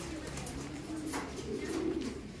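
Pet pigeons coo in low, rolling, repeated calls, fairly close and continuous over a quiet background.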